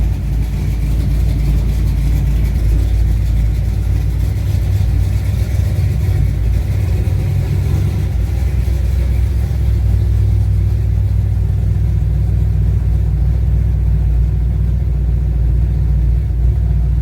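A 1966 Chevrolet Nova V8 runs steadily while being shifted into reverse, a loud, constant low engine rumble heard close and alone.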